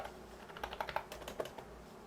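Someone types on a computer keyboard while filling in an AutoCAD drawing title block. A quick, light run of a dozen or so close keystrokes sounds alone, with no speech.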